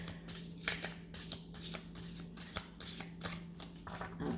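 A deck of cards is shuffled repeatedly in quick rippling riffles and soft slaps, fairly close and quiet over a low steady hum.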